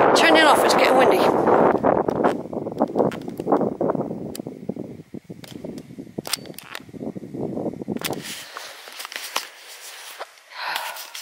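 Wind gusts across a hillside on a Quantock Hills hike near Holford, buffeting the microphone heavily at first, then easing into fainter, intermittent gusts with small knocks and rustles.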